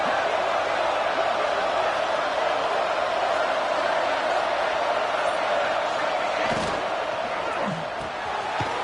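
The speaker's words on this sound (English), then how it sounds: "Listen to the crowd energy here in the early going." Steady roar of a large American football stadium crowd at a college game, a dense continuous wash of noise with a brief louder swell near the end.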